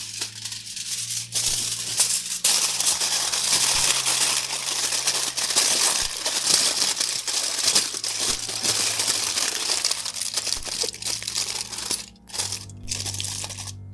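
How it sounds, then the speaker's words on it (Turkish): Aluminium foil is crinkled and pressed over the mouth of a glass bowl. Loud, close, continuous crackling and rustling runs the whole time with no voice, pausing briefly near the end. "ardından cam kasenin ağzını folyo ile kapatın"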